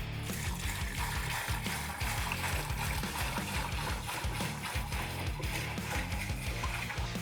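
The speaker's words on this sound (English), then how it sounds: "Put our water in for the first time." Water pours steadily into a home fish tank being refilled for the first time on a replaced stand, a continuous close splashing and trickling that runs unbroken for the whole stretch.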